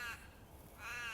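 Crows caw outdoors in two short bursts of harsh calls at the start and end, fairly close, with a quiet gap between.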